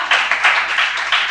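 A church congregation claps in a quick rhythm of about five bursts, loud and close, with no speech over it.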